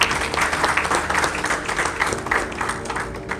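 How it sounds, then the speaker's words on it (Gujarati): Hall audience at a business festival clapping for the learning-session speakers, a lively, fairly loud burst of many hands with uneven peaks, no talking over it. "ફરીથી એક વખત દરેક લર્નિંગ સેશનના વક્તાઓ માટે તાળીઓ થઈ જાય."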